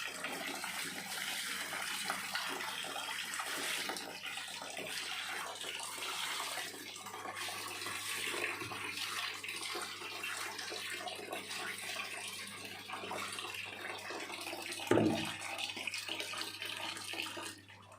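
Water steadily pours and splashes over plant cuttings to rinse off cocopeat, a continuous close gushing with a brief thud midway and no talking.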